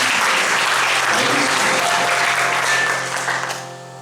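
Congregation clapping and cheering at a Sunday church worship service, a loud sustained burst of applause that fades out toward the end.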